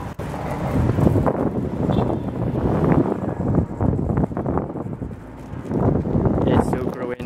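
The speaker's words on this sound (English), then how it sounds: "It's super windy." Heavy low rumbling wind buffeting the microphone while riding a cruiser skateboard outdoors, steady and loud throughout, with gusty surges.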